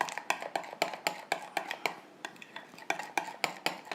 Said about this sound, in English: I'm using a flat knife to mix it up